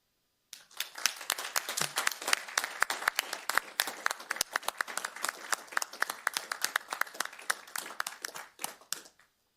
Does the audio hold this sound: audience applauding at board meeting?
yes